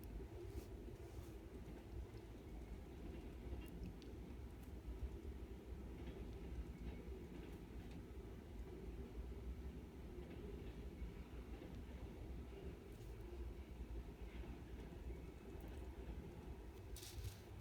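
A low, steady rumble with faint rhythmic clatter rolls on continuously, like a train passing close by, with no talking.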